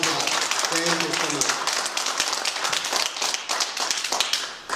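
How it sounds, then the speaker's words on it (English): A ceremony audience gives a round of applause, scattered claps building into a brief ragged burst close by, with talk briefly audible over the start. "Let's give them a round of applause."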